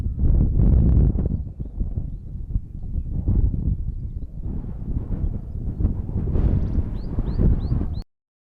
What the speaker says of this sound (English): Into the wind, same conditions, and here we go with the nature sounds.